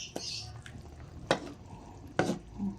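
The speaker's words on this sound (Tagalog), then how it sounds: "Haluin lang natin paminsan-minsan para hindi dumikit yung ilalim." Adobo chicken feet simmering in a pot get an occasional stir, with a few distinct scraping clinks of a utensil against the pot over a soft bubbling background, close and fairly quiet.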